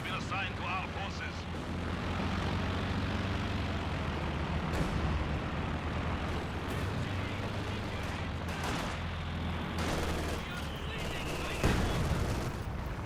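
Mortar hits and gunfire in a Company of Heroes 2 battle replay: a dense, constant wash of battle noise with scattered sharp impacts and a sudden louder hit near the end, under a continuous narrating voice.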